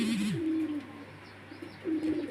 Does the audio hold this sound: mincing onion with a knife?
no